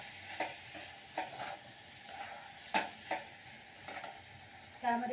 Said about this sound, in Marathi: छान ते मस्त हे सगळं मसाला त्या छोल्यांमध्ये मिक्स करून घेऊया